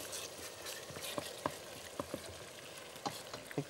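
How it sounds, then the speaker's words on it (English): Tomato paste fries for jollof rice in a non-stick pot, giving a faint, low sizzle broken by scattered soft pops and spatters with no voices over it. "when frying up your tomato paste, you have to keep, checking and turning, just making sure that it doesn't burn"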